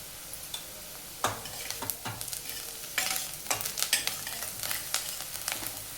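Browned onion frying with turmeric in oil in a pan sizzles steadily, with repeated spoon scrapes and stirring clatter close by and no voices.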